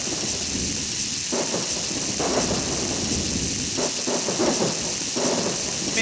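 Rolling thunder over steady heavy rain, a continuous downpour with repeated low rumbling crashes swelling through, loud and close throughout.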